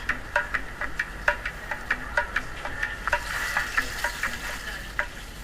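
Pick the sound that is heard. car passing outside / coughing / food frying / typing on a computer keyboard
food frying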